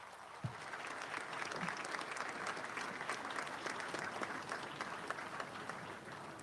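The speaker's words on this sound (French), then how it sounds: "Mme Chantal Nanaba Camara, que je vous prie d'applaudir bien fort" Audience applauding loudly at a presidential investiture and swearing-in ceremony, a sustained wave of many hands clapping that swells early and holds steady, with faint voices underneath.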